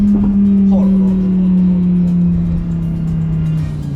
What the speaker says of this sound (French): on entend ce V10 atmosphérique à l'arrière qui vient